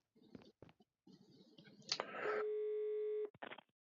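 A phone call placed in the Agatha Christie's Murder on the Orient Express game: soft keypad clicks, then a sustained steady ringing tone lasting about a second before cutting off, with brief bursts of noise around it.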